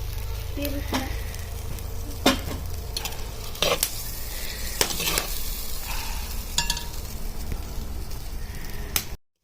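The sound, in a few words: soybeans frying and being stirred in oil for khichdi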